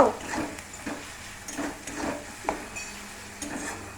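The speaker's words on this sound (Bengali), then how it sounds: "একটু হলুদ কষে নিয়ে কেটে আলুটা দিয়ে দেবো।" Cut potatoes frying with turmeric in a pan, giving a steady low sizzle with regular soft scraping strokes of a spatula, close by and moderately loud, with no voices.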